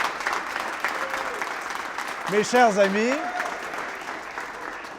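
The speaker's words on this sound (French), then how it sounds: "ces applaudissements-là, là, ça vaut de l'or" A studio audience applauds warmly through the whole stretch, a steady wash of clapping at a celebration of a French-language show's 200th episode, while someone speaks over it.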